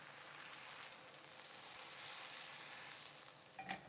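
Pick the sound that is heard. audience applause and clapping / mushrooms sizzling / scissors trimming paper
mushrooms sizzling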